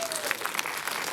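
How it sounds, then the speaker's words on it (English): Audience applause at a San Diego International Film Festival volunteer orientation, a steady wash of many hands clapping at moderate level throughout, fairly brief, with no talking over it. "Can I get a round of applause for those folks coming back?"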